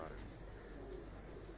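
Tausi pigeons cooing on a rooftop loft, a low steady murmur of coos held under faint background noise for the whole short stretch.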